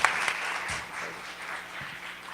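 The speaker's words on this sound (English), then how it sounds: "Big round of applause." Applause from an audience at a Latinx fashion runway event, a moderate spread of clapping lasting a couple of seconds with a few sharper claps.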